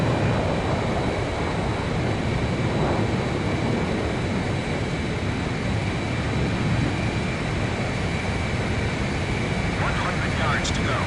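Jet aircraft engines roaring steadily during an in-flight refueling approach in the video game Ace Combat, a loud, continuous broadband rumble with radio voices talking over it.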